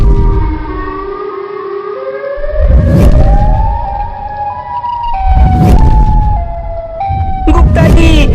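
A cartoon Siren Head creature lets out loud, pitched wailing siren tones that slide and hold in long sustained notes, with bursts of booming impact noise between them and a near, overpowering presence throughout.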